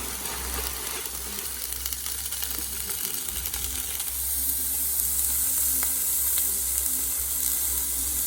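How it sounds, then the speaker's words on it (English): Braciole searing in a pressure cooker, a dense close sizzle that swells louder after the meat is flipped, with a few faint clicks and scrapes and no voices. "Just flipped her over there. Get a little bit of sear on the other side."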